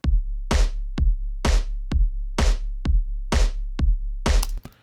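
A programmed boom drum pattern plays in a Pro Tools mix, with deep booming kick hits and sharp snappy accents alternating in a steady, tight rhythm, loud and close with no voices, ending in a final cymbal-like burst.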